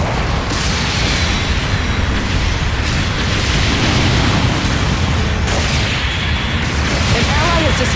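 Explosions from a destroyed mobile suit in a Gundam-style battle video game, a dense continuous roar of loud booms and bursts layered with ongoing combat noise throughout.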